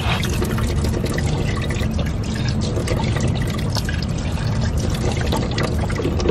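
Cold filtered water runs from an outdoor drinking fountain in a Doha park, a steady close splashing and pouring stream with continuous dripping, no talk over it.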